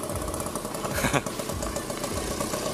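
A Vespa Sprint 150cc scooter engine runs in a steady close putter, with a brief louder burst in the middle.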